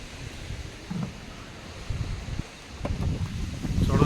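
Strong gusting wind ahead of an approaching storm under heavy clouds buffets the microphone with rumbling surges that swell louder toward the end, with no speech.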